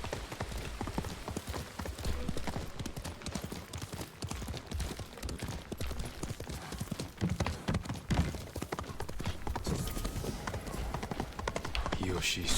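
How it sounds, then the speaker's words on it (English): A horse's hooves clip-clop in a steady rhythm in the video game Ghost of Tsushima, heard throughout under a person talking. "Because I was about to jump with the horse. Can the horse go down here?"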